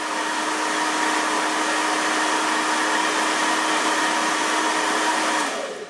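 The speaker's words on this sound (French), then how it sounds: "Je vais utiliser un sèche-cheveux qui va tirer 2000 watts soudainement." A 2000-watt hair dryer blows steadily with a constant whooshing roar and a faint high whine, close and loud, cutting off abruptly near the end.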